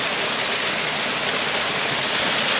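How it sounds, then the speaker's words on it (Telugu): A waterfall on a rainy hillside pours in a dense, continuous, loud rush of falling water, with no voices over it. "ఇది జలపాతం"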